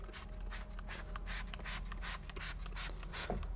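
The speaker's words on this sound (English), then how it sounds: "All you gotta do is this. Simply spray it." Repeated short hissing bursts of a spray bottle of fabric protectant on a vehicle interior, about a dozen quick pumps in a steady rhythm, close and fairly quiet.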